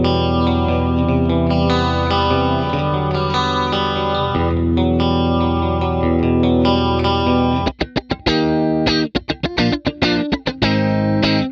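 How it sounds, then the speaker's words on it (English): Guitar tone played through a Fractal Audio AX8 multi-effects modeler, sustained chorus-washed chords ringing steadily, then shifting into choppy, rhythmic strummed stabs with brief gaps near the end; loud and alone, no voices. "It'll give you everything from crystal clear cleans"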